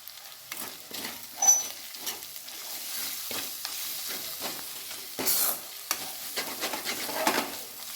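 Chili and turmeric hit sizzling ginger and garlic in a pan and get stirred, a steady close-up fry broken by repeated scraping stir strokes and a few louder bursts of sizzle, with no talking.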